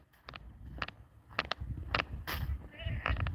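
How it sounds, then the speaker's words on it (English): A pet goat on a homestead bleats several times in short, sharp calls spaced a second or so apart, fairly close, with brief quiet gaps between them. "She's my goat."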